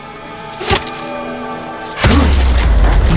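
A League of Legends: Wild Rift enemy turret is destroyed in the game, with two heavy booming impacts, the second a deep, sustained rumbling collapse over the game's ongoing music.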